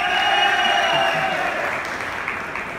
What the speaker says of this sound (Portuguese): Bata palmas pro que vocês mais gostaram